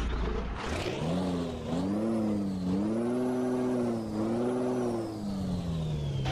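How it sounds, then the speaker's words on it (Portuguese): A Volvo FH16 truck engine in a driving video game rumbles steadily, with a rising starter whine and an air-brake hiss at the start, then a constant low idle drone. "Muito massa mesmo o som desse caminhão."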